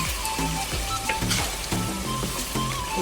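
Fish with ginger and seasoning sizzles in a pot while being stirred, a steady close frying crackle with soft scraping movements and no talking.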